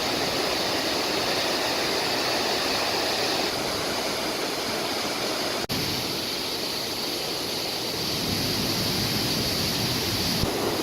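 A small waterfall on a creek trail in Oregon pours with a steady, loud, close rushing roar that never lets up, and no voices are heard.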